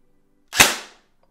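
A single sharp, close crack from an unupgraded airsoft gun firing through a Nimrod NTC01 chronograph, decaying quickly into silence.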